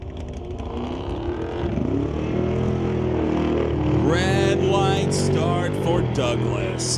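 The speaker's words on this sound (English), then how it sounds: "racing Darcy Lebedinsky with a 69 Cougar" Drag race cars, one a 1969 Cougar, roar off the line at a drag strip, engines rising in pitch through quick gear changes, with an announcer talking over the noise.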